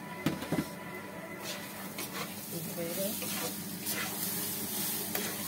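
Rice for pulao fries in a pan as it is stirred, giving a soft, steady sizzle with occasional scraping, close by and fairly quiet.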